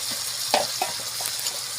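Vegetables frying in spiced oil for a vegetable chicken curry, a steady close sizzle with a few soft scrapes and clinks of stirring, no talk.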